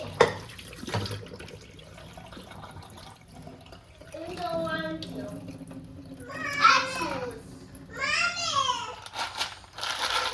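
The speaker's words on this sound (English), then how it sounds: "so now wash the peas just in case any dirt or any debris" Peas rinsed under a running kitchen tap, water splashing steadily into a sink with crinkling and handling noises, while someone talks and someone speaks over it.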